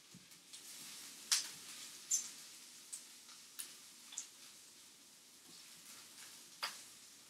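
Onions caramelizing slowly in a pan for pizza give a soft, steady sizzle, broken by a few sharp clicks and taps of a utensil against the pan at irregular intervals, close and quiet.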